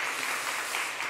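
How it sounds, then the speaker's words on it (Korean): Brief burst of congregation applause in a Korean church service, a soft wash of many hands clapping at moderate distance for about a second. "크게 박수해 주시면 고맙겠습니다."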